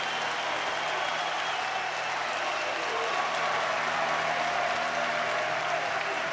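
A college baseball crowd at Charles Schwab Field, on its feet during a Men's College World Series finals game, sends up a steady, dense wash of cheering and applause that holds throughout, loud and continuous.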